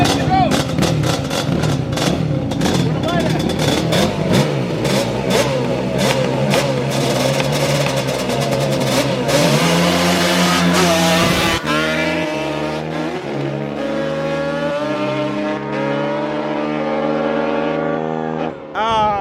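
Several quad ATV engines, a Yamaha Banshee among them, rev hard and rise in pitch one after another while racing, a loud, continuous roar with sharp shifts and bursts throughout.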